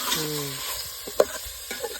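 Lai saag mustard greens are stir-fried in a pan with a constant sizzle, scraping stirring strokes and a sharp utensil clink, close and clear with no talking.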